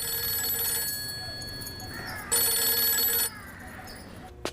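A telephone rings with electronic tones in repeated bursts, a louder ring in the middle and a brief click at the end, set in a quiet room during a film scene.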